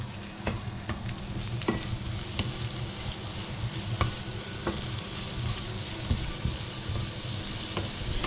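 Nasi goreng fried rice is stirred and tossed in a hot pan, sizzling steadily with repeated scraping and clinking strokes of the spatula throughout.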